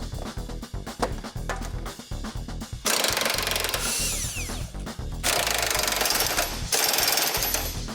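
A power tool, likely an impact wrench, bolts a winch bumper onto a Ford F-350 crew cab dually, rattling loudly in bursts of sustained hammering with short pauses between, close up and without talk.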